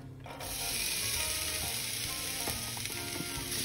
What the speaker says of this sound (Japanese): フライパンがしっかり温まったら玉ねぎのみじん切りを炒めていきます